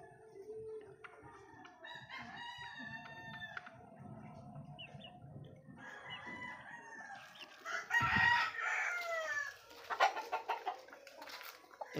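Backyard chickens and a laying hen clucking on a farm, several birds calling close by in a steady mix of clucks with a louder burst of crowing-like calls near the end, no talk.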